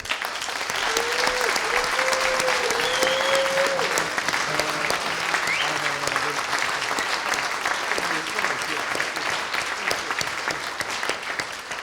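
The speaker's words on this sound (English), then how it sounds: "I think we need a big round of applause to Mike, Nikki, Kevin, Richard, and Kerry." A conference audience gives a round of applause, steady dense clapping that continues for the whole stretch, with a voice speaking faintly underneath.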